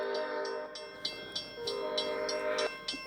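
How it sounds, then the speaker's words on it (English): A Roblox-themed model train runs past on a model railway layout, with a steady whirring rumble, sharp repeated clicks as its cars cross rail joints, and a brief tonal horn-like note near the end, heard without talk. "We got another train coming."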